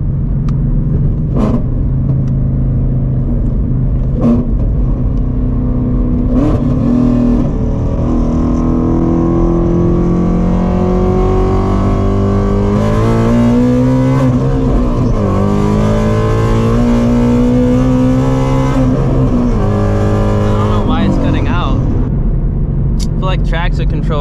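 Shelby GT350 Mustang, a 520 hp car, pulling hard under full acceleration with a no-lift shift, the engine note climbing loud and close, dipping and climbing again, with someone talking over it.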